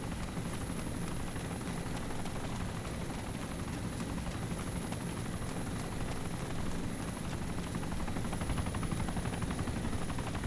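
A Merlin helicopter in the video game Arma 2 produces a steady, loud rotor and turbine roar with a constant high whine, running without pause and with no talking.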